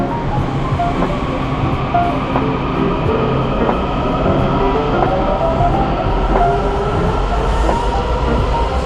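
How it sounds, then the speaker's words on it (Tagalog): A train passes by in Washington DC with a continuous loud rumble and rhythmic clatter of wheels on rails, steady and close throughout. "Bye, train."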